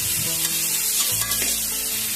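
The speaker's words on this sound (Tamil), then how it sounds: "இதை வந்து நல்லா வணக்கிக்கலாம்." Chopped tomato sautéing in a pan for a Tamil mutton curry gives a steady, close sizzle with brief stirring scrapes and no talk.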